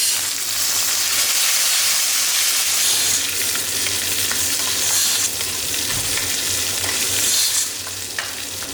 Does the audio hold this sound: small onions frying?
yes